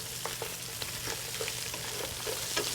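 Lobster pieces and mirepoix sizzling and browning in a pan for Maine lobster stock, a close, continuous frying crackle with small popping spatters throughout, no talking.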